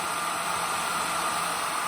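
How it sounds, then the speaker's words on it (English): Constant, even whoosh of a hair dryer blowing nearby to dry a 3D-printed model, steady with no changes in pitch or volume. "use a hairdryer"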